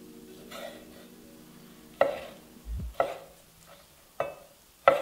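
A knife dices homemade salted pickled cucumber on a cutting board, giving sparse, sharp chops about once a second, close and crisp, with a dull thud between strikes.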